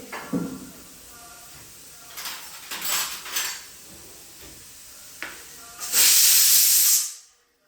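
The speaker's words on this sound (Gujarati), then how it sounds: "રાઈ જીરું હિંગ નાખી અને તેમાં આપણે મરચાં નાખી દઈશું" Mustard seeds, cumin and asafoetida hit hot oil while a cabbage and chili sambharo is cooked, giving a close hiss with pan clatter that swells into a loud, steady sizzle near the end before it cuts off.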